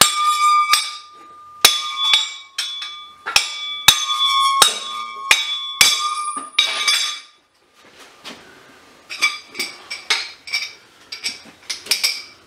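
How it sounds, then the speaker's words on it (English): Pieces of aluminum scrap from a dumpster haul ring out bell-like when struck, a string of sharp metallic clinks with lingering tones, followed after a short pause by quieter, duller taps. "it's definitely aluminum. It's got a real ring to it though."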